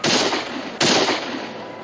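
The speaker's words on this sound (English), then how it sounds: "Shots are coming from the garrison, all right, but they're not shooting at us." Two loud, sharp gunshots from a frontier garrison, each a close blast that cracks and then rolls off into a fading echo, the second coming just under a second after the first.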